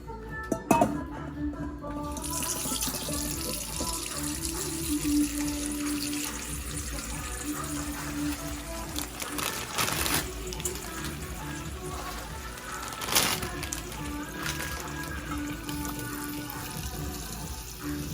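Cold tap water runs steadily into a bowl to soak noodles, a continuous rushing hiss with a few clinks and knocks of dishes along the way.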